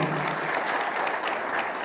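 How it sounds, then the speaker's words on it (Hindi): A congregation at a thanksgiving mass in Saint Clare Parish breaks into steady, dense applause, a continuous roar of many hands filling the church throughout. "मेरे तमाम उस्तादों के लिए जोरदार तालियां बजाएं"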